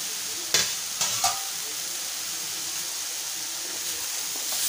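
Red amaranth greens being sautéed in a pan, a continuous hiss of frying with a few sharp stirring knocks early on, then a steady, fairly quiet sizzle close by and without speech.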